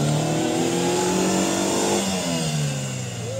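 An off-road car fitted with a rear air locker revs its engine hard while reversing, a sustained loud whining roar that rises and dips, heard up close with no talking over it.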